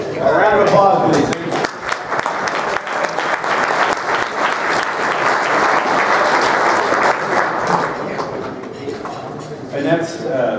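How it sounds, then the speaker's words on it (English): Audience applause at a veterinary association's winter business meeting, a loud burst of clapping from a crowded room that swells and holds for several seconds, with voices speaking over its start and end. "A round of applause, please."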